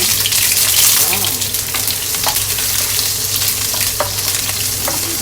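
Onion hitting hot cooking oil in a frying pan gives a loud, continuous sizzle close by, with small crackles and stirring scrapes throughout.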